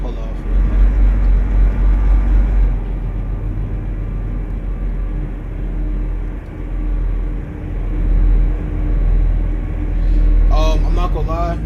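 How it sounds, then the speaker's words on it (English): A Greyhound bus engine on the open road, a loud, low, steady rumble that swells and eases over several seconds, with a voice speaking briefly near the end. "This bus sounds really powerful."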